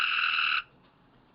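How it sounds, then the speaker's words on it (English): A single frog croaks loudly and close for about half a second, a sustained buzzing call, followed by quiet background and a faint short chirp near the end. "This frog is getting louder and louder."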